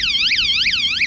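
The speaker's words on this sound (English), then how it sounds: "there's the alarm" The ARWIBON Q30 custom scooter's anti-theft alarm wails loudly up close, a rapid rising and falling electronic siren cycling about three times a second.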